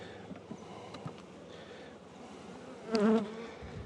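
Honey bees buzzing around a hive of a mated queen with lots of brood, a soft steady drone, and a louder bee flying close past near the end.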